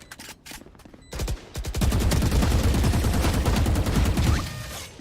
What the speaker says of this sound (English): I'm shooting but my bullets not hitting enemy